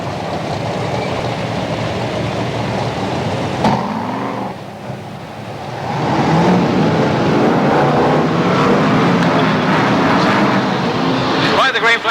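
Stock cars race at Coventry in a 1995 heat, giving a steady, loud roar of engines that dips briefly and then swells again as the cars pull away, with a commentator talking over it throughout.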